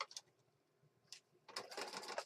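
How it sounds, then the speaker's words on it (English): A sewing machine stitches around paper junk journal ephemera, with short mechanical bursts early, a brief pause, then a louder continuous run of rapid stitching close to the microphone. "Let's go to the sewing machine and we're going to stitch all the way around."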